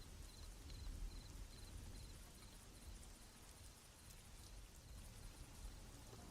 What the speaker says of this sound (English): it's nighttime and it's raining as well